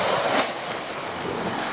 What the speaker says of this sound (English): it's quite rough that sea now.